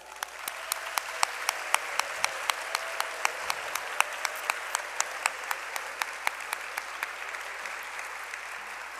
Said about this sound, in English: Please, let us give them a big round of applause.